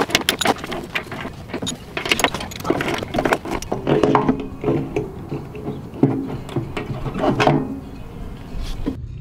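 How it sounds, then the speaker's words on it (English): Close, busy ratcheting and metallic clicking comes from loosening the fuel pump bolts on a Suzuki motorcycle, with rapid irregular bursts of tool clicks and small metal rattles running steadily throughout; nobody speaks. "now off comes the fuel pump. So now I gotta take off these 5 bolts"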